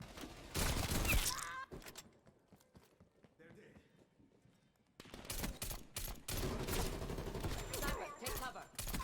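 Enemy sniper shots ring out in Call of Duty Vanguard on the Showroom map, loud sharp bursts at the start and again later amid busy game noise, with a quieter lull between.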